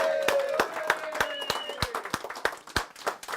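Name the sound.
audience applause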